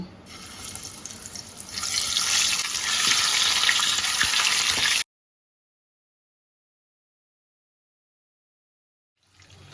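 Fish rubbed with salt and turmeric sizzles loudly in hot mustard oil in a kadai, the frying hiss swelling after a couple of seconds, then cutting abruptly to silence before a faint return at the end.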